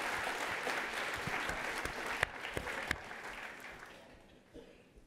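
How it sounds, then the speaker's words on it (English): An audience at a corporate employee-communications talk applauds for several seconds, a dense clapping crowd with a few sharp individual claps, gradually thinning and fading out near the end. "Give it a round of applause for Nick."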